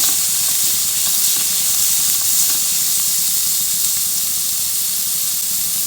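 Cabbage dropped onto softened onions in a pan fries with a steady, close hiss and sizzle that holds evenly throughout, no voices present.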